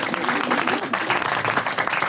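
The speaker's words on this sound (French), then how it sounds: "J'aimerais qu'on l'applaudisse, s'il vous plaît." An audience applauds for a baby girl just turned one, a dense, steady burst of many hands clapping close by that fills the whole moment without a break.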